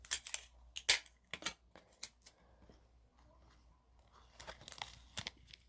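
Tape being pulled and torn while building a cat hut, with a handful of sharp, close ripping and crinkling bursts spread over a few seconds, quieter stretches in between.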